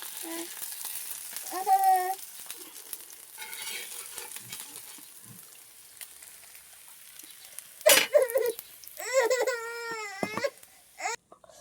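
River fish coated in ginger, garlic, cumin, salt and turmeric fry in oil with a faint, steady sizzle, while a young child cries and whimpers loudly in repeated bursts over the frying.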